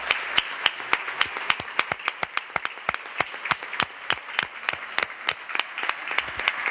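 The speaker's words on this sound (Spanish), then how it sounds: "Muchas gracias y les damos un aplauso." Applause in a municipal council chamber during an ordinary plenary session in Linares, with distinct sharp hand claps rising from a moderate group in an irregular, steady rhythm for several seconds and no talking.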